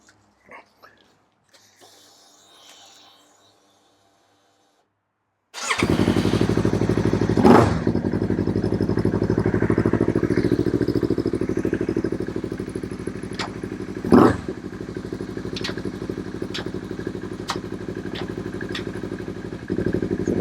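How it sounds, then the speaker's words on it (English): Yamaha R3 motorcycle fitted with an HM quickshifter, engine starting after a quiet stretch and then running loud and close, with brief sharp breaks as the ignition cuts during shifts. "you should hear the ignition cutting at certain point when I get to 6th gear"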